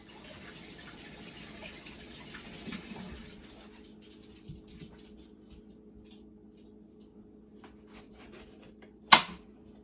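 Running tap water rinses fresh vegetables, likely chili peppers, in a kitchen sink, a soft steady splash for the first few seconds that fades to quiet, with one sharp clack near the end.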